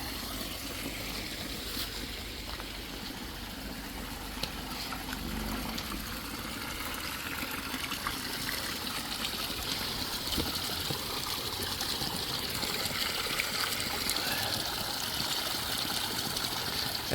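Water in an ecosystem pond flows and trickles steadily, a continuous broadband wash that stays close and constant throughout with no talking.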